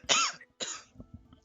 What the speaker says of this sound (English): I was already brewing up a cough